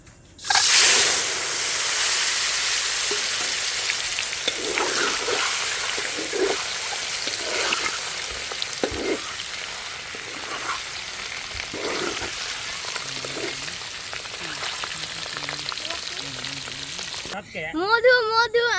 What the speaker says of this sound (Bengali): তেল অনেক গরম হয়ে গেছে, এবার আমরা ডিমগুলো ছিটে দেবো।